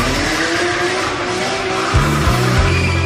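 Motorbike race getting underway outdoors, engines revving loudly and continuously with rising and falling pitch, and tires skidding near the end; no talk over it.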